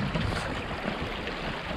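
A mountain stream on the trail to Carrauntoohil in Killarney, Ireland, rushes continuously close by, a dense steady wash of flowing water with no voices.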